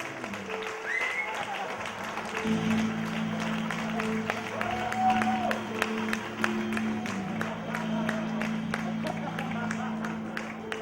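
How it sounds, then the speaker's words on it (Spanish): Audience at a circus festival in a hall, sustained dense applause and cheering that continues throughout while someone speaks and a melodic tone plays over it. "un fortísimo, fortísimo aplauso para mi querido amigo Silvio Berlusconi."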